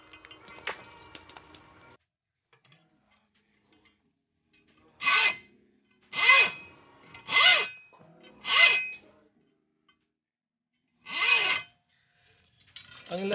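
A dull hand saw cuts a slot into a metal shaft in short rasping bursts of back-and-forth strokes, close and crisp, separated by quiet pauses.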